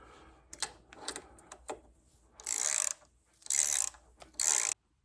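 A ratchet tightens the long bolts fitting a center stand onto a Yamaha Tenere 700 motorcycle, with a few separate clicks followed by three bursts of rapid, close ratcheting. No one speaks.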